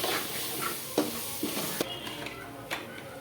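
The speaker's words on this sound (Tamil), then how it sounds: "பச்சை வாசனை போய் நல்லா ப்ரௌன் கலரில் வர வரைக்கும் வதக்கிக்கோங்க" Pepper chicken is stirred and sautéed in a pan, with a soft sizzle running throughout and several sharp scrapes of a spoon against the pan.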